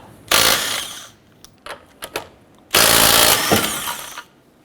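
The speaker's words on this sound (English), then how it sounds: "Using a 19mm socket, let's go ahead and remove our lug nuts." Lug nuts come off a 2008-2012 Honda Accord wheel with a 19mm socket on a power tool, heard as two loud, close bursts of whirring rattle with a few short clicks between them.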